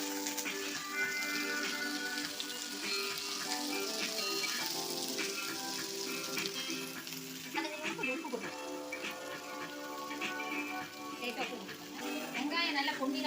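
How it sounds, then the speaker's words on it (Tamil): Onions sautéing with curry leaves in a pan while cooking cauliflower egg podimas give a steady, continuous sizzle throughout, layered under a constant tonal background sound. "வெங்காயம் நல்லா பொன்னிறமா நல்லா வதங்கணும்."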